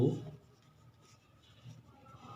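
During a class 8 maths lesson, an answer is handwritten in a soft, continuous scratching of pen or pencil, low and close, with no speech.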